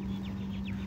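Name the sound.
pigeons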